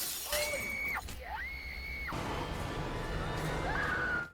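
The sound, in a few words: axe smashing through a truck window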